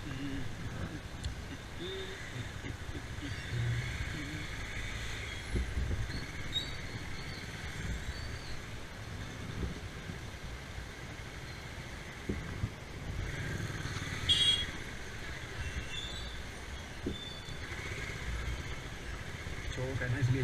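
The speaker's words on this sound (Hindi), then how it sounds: "चौक है ना इसलिए जाम लग रहा है।" Traffic idles and creeps through a congested road intersection, a steady low bed of car and motorcycle engines with occasional horn-like tones, while people talk nearby.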